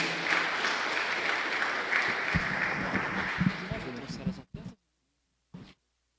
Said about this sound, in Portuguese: Vamos receber o pastor Rodrigo, aplaudindo e glorificando o nome do Senhor.